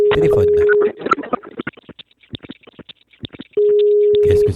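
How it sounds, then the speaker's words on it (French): Telephone line tones during an outgoing call: a steady tone, then a gap, then the tone resumes, loud and close, with someone talking between them. "Allez, téléphone."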